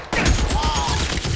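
Gunfire in the LA Noire video game, loud and continuous, a rapid run of overlapping shots with a mechanical ring underneath and no speech.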